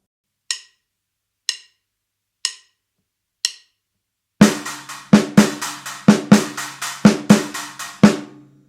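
A drum lick on a stacker cymbal and snare drum: four soft, sparse taps first, then a dense burst of loud, crisp snare and trashy stacker hits in a driving pattern, close and alone.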